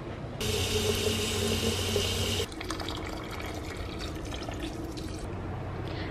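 Water pours steadily into a potted houseplant for about two seconds, then stops and leaves a soft trickle and drip as it drains through the soil indoors.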